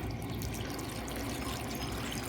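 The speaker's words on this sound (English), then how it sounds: "I'm dumping some water into the stump." Water is poured into an old tree stump, a continuous faint trickling and splashing pour that holds steady throughout, with no voices.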